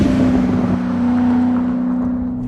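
A manual Chevrolet Corvette downshifts from third to second with automatic rev-matching. The engine gives a loud, steady drone close by, with a short blip early on, then holds an even tone as the road noise fades.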